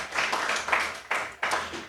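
Congregation clapping for Christ during a church service, a broad wash of hand claps that swells in several waves across the short moment, fairly close and unaccompanied by talk.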